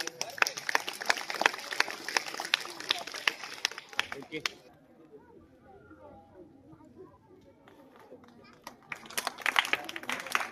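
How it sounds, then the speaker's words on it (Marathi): Crowd applause with scattered sharp claps at a Republic Day school event where bicycles are presented to girls, loud for about four seconds, then fading under quiet murmur before a second burst of clapping returns near the end. "जोरदार टाळ्या झाले"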